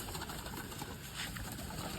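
Soft cooing of pigeons being fed grain in a quiet space, a faint low murmur of birds with no talking.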